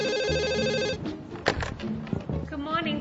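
Office telephone ringing in an electronic repeating pattern for about a second, then voices talk over background music in an English-lesson setting.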